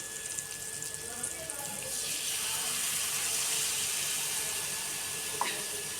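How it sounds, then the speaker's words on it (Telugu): Water poured around the edges of a pan of chole chaat masala, a steady hissing gush with a faint sizzle that swells after the first two seconds and keeps running. "ఈ చుట్టూత వాటర్ అనేది వేసుకుందాం"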